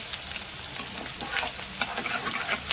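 Cumin seeds and chopped green chillies fry in hot oil in a small kadhai for a thin poha chivda, giving a dense, steady, close-up sizzle with crackling bursts and no talking.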